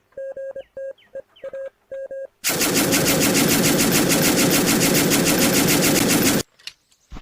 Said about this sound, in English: This is a Hotchkiss 1914 from France. Used in both World Wars.